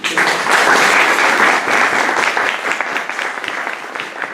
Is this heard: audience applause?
yes